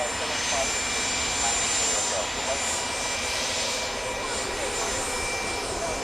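A Dornier aircraft operated by Sun Air at Manchester Airport gives off a steady, fairly distant engine drone across the whole stretch, a continuous broadband roar with no clear peaks.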